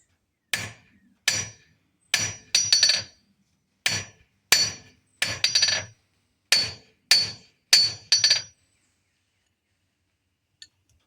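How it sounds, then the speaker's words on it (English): Hammer blows bouncing on a horseshoe workpiece against an anvil, about a dozen close, sharp strikes in quick bursts with short pauses between them, ending with one faint tap after a silence. "I'm letting it kind of bounce on it, and then I'm flipping my workpiece"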